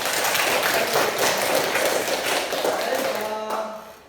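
Classroom students clapping together in a dense, steady burst of applause that tapers off near the end, with a few voices faintly mixed in.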